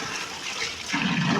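Cabbage rinsed under running kitchen water for a South Indian spicy cabbage sambar: a brief, steady close rush of flowing water that swells louder toward the end.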